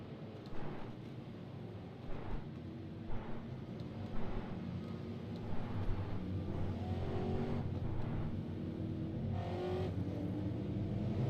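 Stock race cars lapping Interlagos in the iRacing sim, engines droning steadily at mid distance with rising and falling revs as the pack climbs the hill, no talk over it.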